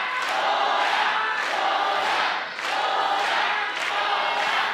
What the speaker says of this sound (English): Loudest chant of the evening so far.